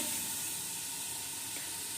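Chicken frying in masala for pulao gives a soft, steady sizzle and hiss, faint and continuous, with no talk over it.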